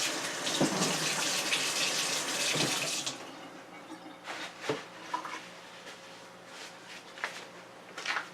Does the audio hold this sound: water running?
yes